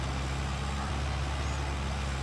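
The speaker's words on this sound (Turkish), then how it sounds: "Güzel traktör güzel." A tractor engine in a farming video game runs at a steady, continuous drone, a low rumbling idle that holds even and fairly loud throughout with no talk.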